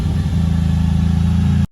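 A nitrous-fed Smart car engine revs hard and steadily on a dyno, a loud sustained mechanical roar that cuts off abruptly near the end.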